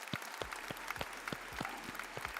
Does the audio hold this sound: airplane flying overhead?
no